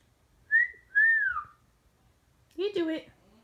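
A five-month-old grey parrot gives two clear whistles, one short and one long and falling, followed by a brief raspy vocal sound, in a quiet room.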